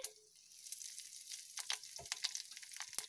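Curry leaves hit hot oil along with mustard and cumin seeds in a pan, giving a faint, crackly sizzle with sharp pops and spits that grows busier after a quiet start, with no voices.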